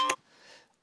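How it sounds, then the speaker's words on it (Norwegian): An Android phone triggered by Google Find My Device's play-sound feature gives one short, sharp electronic beep, followed by faint hiss. "Play sound. Så da piper det."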